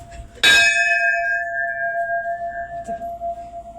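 A single strike of a temple bell at an ancient temple in Puntamba, loud and close, leaving a long ringing tone that slowly fades.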